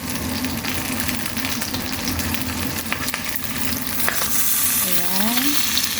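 Okra, or lady's finger, sizzling loudly as it fries in a pan while being stirred, a continuous dense crackle with occasional scraping of the utensil against the pan.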